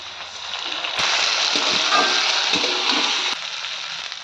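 Cumin, ginger, chili paste and turmeric fry with potatoes in a pan for a fish curry, giving a steady broadband sizzle that swells louder midway, with a few soft utensil knocks and no voices.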